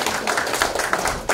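A hall audience at a Korean singing instructors' association officer appointment ceremony in Kyung Hee University's small auditorium breaks into brisk, loud applause, dense overlapping claps filling the short stretch.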